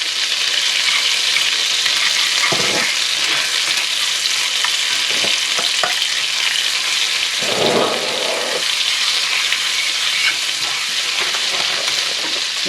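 Meat and garlic fry in a pan with a steady, loud sizzle that runs the whole time, and a couple of brief stirring scrapes break through. No one speaks.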